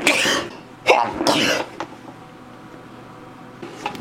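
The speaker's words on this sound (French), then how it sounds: "Je vais éternuer." A person sneezes indoors in a few sharp, loud bursts close by, followed by quieter room noise and a faint bump near the end.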